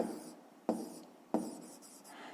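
A pen writes numbers on paper during a fifth-grade math exercise, making close, soft continuous scratching with sharp pen-down strokes starting at regular intervals, three main strokes, with no talking.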